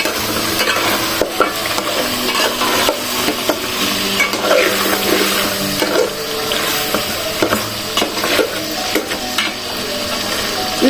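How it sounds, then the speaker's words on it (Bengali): A pot of red beef curry being stirred on the stove, with steady scraping and bubbling sizzle of the thick gravy running close and continuous throughout, no one speaking. "এখন ঢাকনাটা উঠাই একটু নাড়াচাড়া দিই না।"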